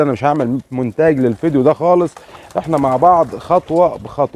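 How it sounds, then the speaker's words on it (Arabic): Pigeons and young squabs coo in a loft out in the sun, their soft calls mixed beneath someone talking steadily up close. "ده حمام انا مدشره في الشمس اهوت زغاليل عشان اعودها على المكان بتاعي"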